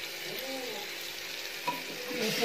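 Egg biryani rice mixed with onion, garlic, chilli, turmeric and masala is stirred in a pan, giving a steady sizzle and scraping with a couple of louder spoon knocks toward the end.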